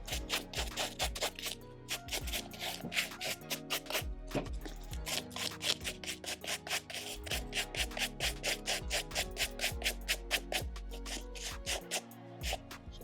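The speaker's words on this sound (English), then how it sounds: "I like to brush the Velcro with a wire brush just to get off like whatever little loose hairs or fibers are, you know, lodged into the Velcro" A stainless steel wire brush scrubs the Velcro straps of designer sandals in quick, rhythmic back-and-forth strokes, close up and steady, with sharp bristly scratches and no talking.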